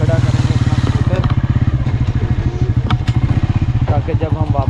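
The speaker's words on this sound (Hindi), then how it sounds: "तो यहाँ पे हम छाँव में खड़ा करेंगे अपना स्कूटर" A scooter engine idles and putters steadily up close in a rhythmic chug as the rider pulls into the shade to park, with someone talking over it.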